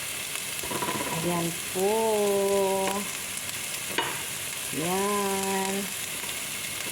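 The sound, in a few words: stirring food frying in a pan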